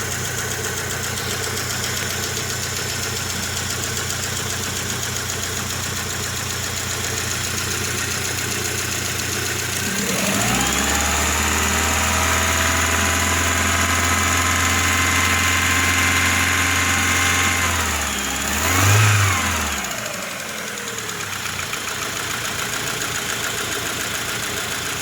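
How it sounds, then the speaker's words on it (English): A Rover 75 K Series engine starts for the first time after head gasket work, cranking briefly before catching into a loud, rattly running idle with a knocking clatter, then dipping with a short surge as it runs on, recorded up close. "So we've just heard that first startup, she was quite rattly."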